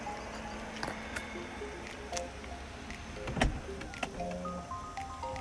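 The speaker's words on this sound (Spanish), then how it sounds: "Para cerrar el portón trasero lo podríamos hacer de la misma manera o pulsando este botón" Powered tailgate of a 2019 Jaguar I-Pace EV400 AWD HSE closing after a button press, a soft motor whir with clicks and a firmer latching thunk near the middle, quiet and close.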